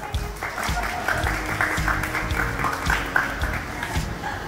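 A small group claps together at a gathering where a team receives a plate and keychains, the clapping moderate and uneven over a steady background murmur.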